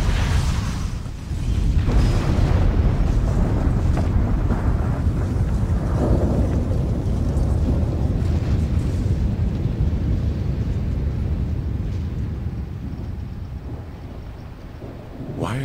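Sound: explosions in a video game

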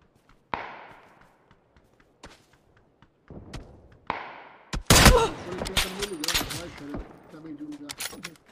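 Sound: gunfire in a video game

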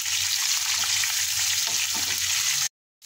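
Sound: frying green chillies in a pan on low flame

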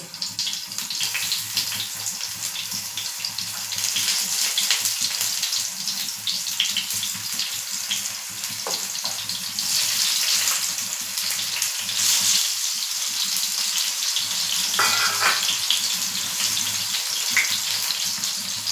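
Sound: tomatoes frying in oil

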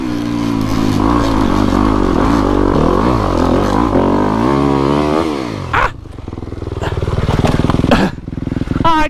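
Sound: dirt bike motorcycle riding

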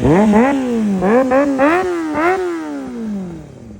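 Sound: Kawasaki Ninja ZX6R 636cc motorcycle engine revving

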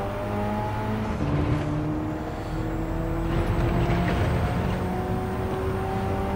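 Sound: Alfa Romeo 4C engine in Gran Turismo 7 video game

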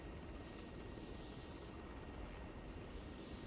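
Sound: helicopter flying in a military video game

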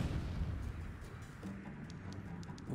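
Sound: explosion spell in the video game Disciples: Liberation

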